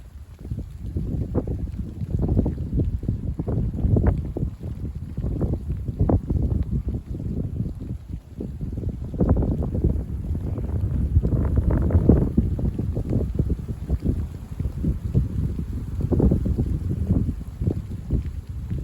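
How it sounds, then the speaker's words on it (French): Gusty wind buffets the microphone in uneven low rumbling bursts, rising and falling throughout, with no voices. "Voilà, un petit peu de vent."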